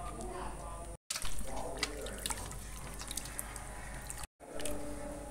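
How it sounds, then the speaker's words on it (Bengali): Raw mutton rinsed and rubbed by hand in water for a village-style mutton rezala, steady sloshing and dripping with squishy rubbing sounds up close, broken by two brief cuts. "প্রথমে আমি এই মটনগুলোকে ভালো করে জল দিয়ে ধুয়ে নেব।"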